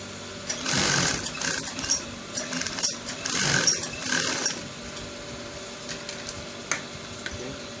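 A sewing machine stitches a trouser pocket bag, its motor whirring in bursts that speed up and ease off before a quieter steady hum, close and without talk.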